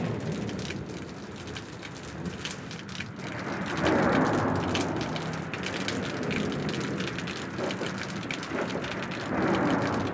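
Steady rain falls outdoors on a lawn, a dense close hiss of drops that swells louder for stretches, with no voices.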